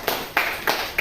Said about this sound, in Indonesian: Tepuk tangan untuk yang pertama.